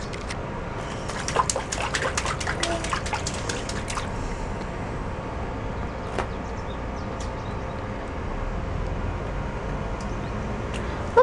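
Child splashing water in a small pool, scattered light splashes and drips clustered early then sparser, fairly faint against a soft background.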